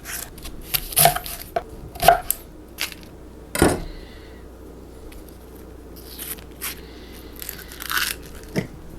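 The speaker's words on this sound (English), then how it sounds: "I am gonna dice some onions" A knife chops onions into a fine dice on a board while pasta and meatballs are made at home, sharp irregular chopping strikes, several close and loud, separated by quiet pauses.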